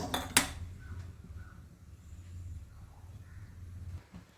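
An iron pan is set down on a stove with a sharp metallic clank early on, followed by a low steady rumble of a burner flame in a home kitchen.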